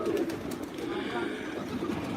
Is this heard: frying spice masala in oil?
no